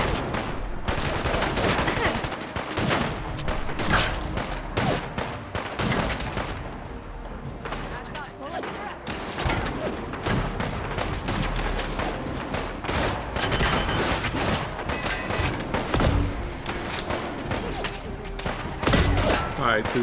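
A Zap Sniper rifle fires repeatedly in Fallout 4 amid a dense, continuous firefight, with rapid loud shots, clattering mechanisms and thuds throughout.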